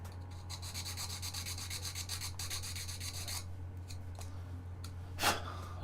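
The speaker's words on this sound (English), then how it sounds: "I'll get the band sander. I've got a little tiny thin band sander." A tiny thin band sander works on a plastic Amiga B2000 case part, giving a steady close rubbing rasp over a constant motor hum; it stops partway, leaving the hum and a few faint knocks.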